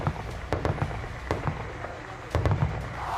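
Scattered sharp bangs and pops, several distant gunshot-like cracks in quick irregular bursts over a noisy background, from a gunfight on the Iran–Afghanistan border in Nimruz province.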